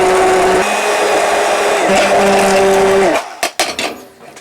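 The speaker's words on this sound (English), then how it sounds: "Get in your cheese. Blend that up." A blender whirs loudly and steadily as cheese is blended into a nacho cheese sauce, its motor pitch shifting slightly mid-run before cutting off, followed by a few short knocks and clatters.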